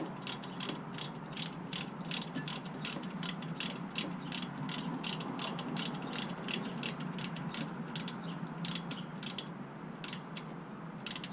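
A ratchet wrench tightening rear brake caliper bolts on a BMW F30, a fast regular run of dry clicks close up, steady throughout and heard alone.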